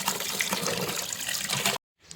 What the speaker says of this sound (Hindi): अब इसको अच्छे से पानी से वॉश कर लेती हूँ।